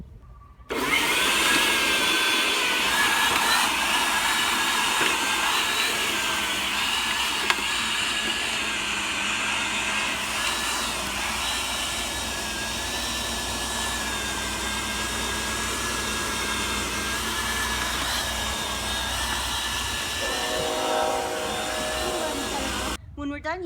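An Earthwise TC70001 11-inch 8.5-amp electric corded tiller/cultivator runs at a steady, loud, whining motor drone that holds almost unchanged for over twenty seconds, then cuts off abruptly.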